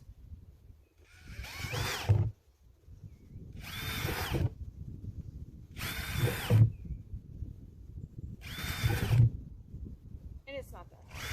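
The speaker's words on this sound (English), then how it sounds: "I got Jeremy's drill" A power drill bores holes in a plastic planting container, whirring in four separate bursts of about a second each, spaced evenly and close by, with quiet pauses between them.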